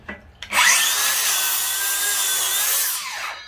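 A DeWalt Flexvolt 7-1/4 inch cordless circular saw rips through wood in one continuous cut of about two and a half seconds, spinning up sharply and winding down at the end, loud and close with no talking.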